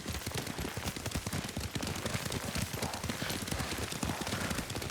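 Horse hooves from riding in a video game, a dense rapid clip-clop of galloping hoofbeats running steadily and loud throughout, with no pauses.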